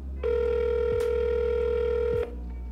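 A single electronic phone ring tone at the start of an outgoing cold call: one steady sustained tone lasting about two seconds, clear and close, with no voices.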